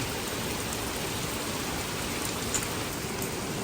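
Steady rain falling on a sailboat at night, a dense even patter and hiss that stays constant throughout, moderately loud with no voices.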